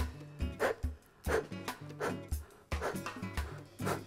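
A man imitates a panting dog during a breathing exercise, giving quick rhythmic voiced huffs in bursts with short pauses between them, close and clear.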